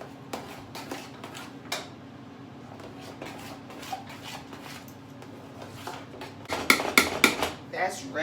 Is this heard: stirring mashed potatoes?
yes